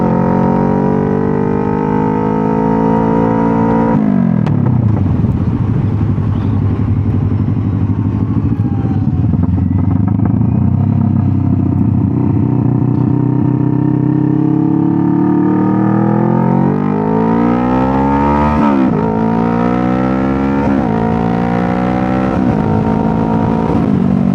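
A motorcycle rides along a narrow, skinny road, its engine loud and steady close to the microphone, the pitch rising and falling as the rider shifts through gears and revs, with no talking.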